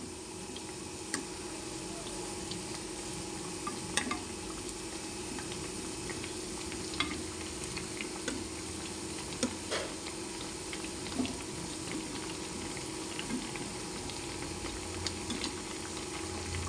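Badusha pastries frying in hot oil as they are flipped, a steady soft sizzle with occasional small ticks and clinks of the utensil, moderately quiet and continuous, no talking.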